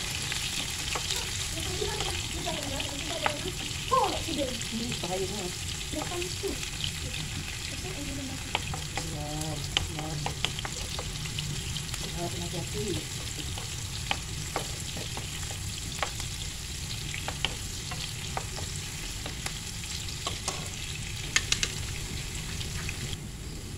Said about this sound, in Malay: barulah saya akan masukkan hirisan bawang serta halia tadi